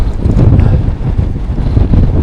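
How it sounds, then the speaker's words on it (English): Strong wind buffets a mountain summit in Switzerland during a dangerous scramble, a loud roaring rush that gusts and booms against the microphone without pause. "Ooh, it's windy."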